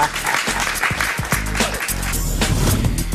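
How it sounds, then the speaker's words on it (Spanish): Steady applause from a television studio audience fills the whole stretch, dense and continuous clapping with no clear talking over it. "Si quieren aplaudirlo, lo pueden aplaudir."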